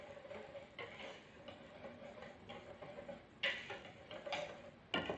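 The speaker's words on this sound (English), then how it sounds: "garlic powder and a 1/4 teaspoon cumin. Just to add a little flavor, whisk that in." A whisk clicks and ticks rhythmically against a bowl while mixing garlic powder and cumin, a quiet, close, uneven tapping with a few louder strokes near the end, with no talking.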